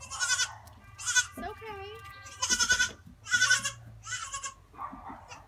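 Baby goat bleating in short, thin cries repeated several times at close range, mixed with a person speaking softly.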